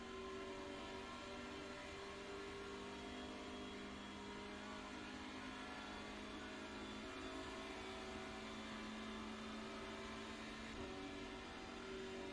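Steady, continuous engine drone of a TCR touring race car in the iRacing simulator, held at high revs through the upper gears on the Nürburgring combined 24-hour layout, loud and unbroken with no talk.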